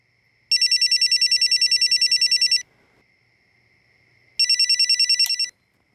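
A telephone rings with a fast electronic trilling bell in two bursts, the first about two seconds long and the second shorter after a pause, loud and close with faint background hiss between.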